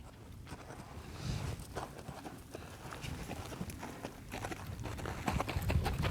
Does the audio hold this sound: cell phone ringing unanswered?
no